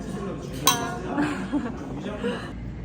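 Glasses clink once in a toast over a salad course at a Jeju pork tasting-menu restaurant in Songdo, a single bright sharp chime with soft tableware knocks and a voice nearby.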